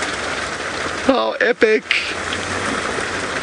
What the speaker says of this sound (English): And it's been quite a constant, steady downpour.